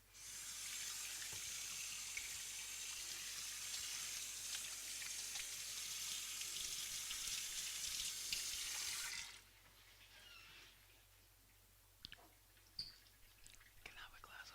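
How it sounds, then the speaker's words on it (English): Water runs steadily from a tap as hands are rinsed for about nine seconds, then it shuts off, leaving quiet room sounds with faint soft taps. "Let me just rinse my hands."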